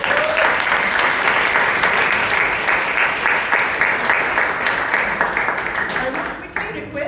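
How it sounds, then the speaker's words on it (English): Loud, dense applause fills a Toastmasters club meeting room and holds steady before dropping away near the end, with some voices mixed in. "can we have a big round of applause for all the audience?"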